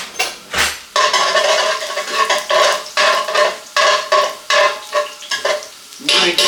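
Three cloves of garlic frying in a pan, stirred with a utensil: close, loud scraping strokes in an uneven rhythm over a steady sizzle, with brief pauses between strokes.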